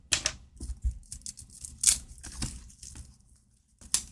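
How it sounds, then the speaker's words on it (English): Plastic shrink wrap being peeled and crinkled off a W.I.T.C.H. oracle card deck box, heard as several close, sharp rustling and tearing bursts with brief pauses between them and no talking. "as you can see, I'm just taking the plastic off"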